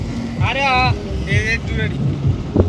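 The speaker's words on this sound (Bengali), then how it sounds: "ট্রলার মনে হয়ে যাচ্ছে না" A trawler's engine rumbles steadily as the boat passes along a river toward Chandpur, a continuous low drone with people talking close by over it.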